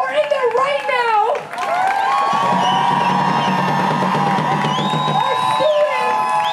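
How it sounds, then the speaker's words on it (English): Protest crowd in San Diego cheering for students, a dense sustained roar with whoops and shouts rising after a lone voice at the start, loud and continuous throughout. "let's all cheer for our students who are in there right now"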